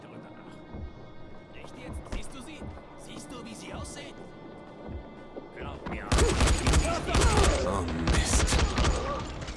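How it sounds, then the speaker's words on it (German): Police rifles firing in the zombie game Dying Light, a sudden dense burst of gunfire erupting midway and continuing loudly to the end, with someone talking over the quieter first half. "Jetzt haben wir geschossen."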